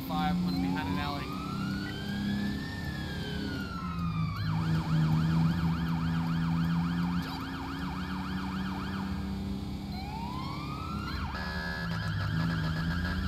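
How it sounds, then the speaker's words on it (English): Police car siren in an Ohio County roleplay video game, cycling through wailing sweeps and a rapid yelp pattern, loud and continuous over engine rumble, with a brief switch between tones partway through. "I hate that I have to use the default siren"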